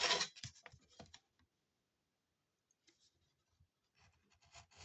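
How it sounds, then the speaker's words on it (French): A craft knife cuts the shape of a paper tag for a junk journal. Short, close scratchy scraping bursts open the passage, then a near-silent pause follows, and a few fainter scrapes come back at the end. "Je viens couper ici pour faire la petite forme de mon tag"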